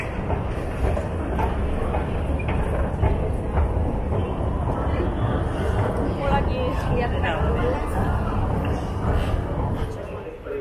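A Singapore MRT train running on its rails, a steady loud rumble with rattling wheel noise lasting throughout, with speech faintly present under the din.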